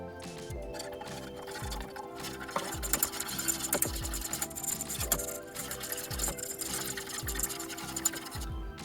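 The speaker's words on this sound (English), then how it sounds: "just whisking the flour and the oil together" Flour and oil being whisked together into a roux for enchilada sauce, a close, quiet, rhythmic scraping and clicking of a whisk against a pan, steady and repeated with no talking.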